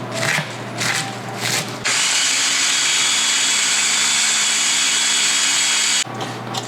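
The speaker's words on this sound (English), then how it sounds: "throw that in the food processor and get it going" A food processor chops herbs, garlic and shallots outdoors, starting with short bursts and then running as one continuous loud whirring grind for about four seconds before it stops.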